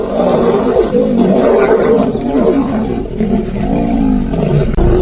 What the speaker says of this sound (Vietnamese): những con sư tử lao vào nhau, móng vuốt xé rách, hàm răng cắn mạnh, và những tiếng gầm vang vọng khắp thảo nguyên